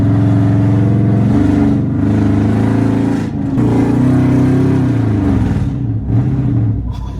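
A car engine idles loud and close, its rumble uneven and lumpy with small dips and surges throughout.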